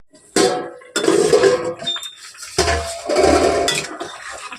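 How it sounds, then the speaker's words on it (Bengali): A lid is set onto a cooking pot of fish curry with cauliflower, making two loud metallic clanks and clatters in close succession, with quieter rattling between them. "এবার একটা ঢাকা দিয়ে দেবো।"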